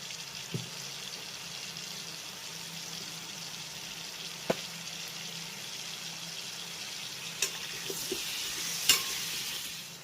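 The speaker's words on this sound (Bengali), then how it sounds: "আলুর ভিতরেও সামান্য একটু হলুদ আর লবণ দিয়ে পটলের মতো একই রকমভাবে ভেজে নিতে হবে" Cut potatoes with turmeric and salt fry in oil with a continuous close sizzle, broken by a few sharp clicks and scrapes from stirring; the sizzle swells slightly louder near the end.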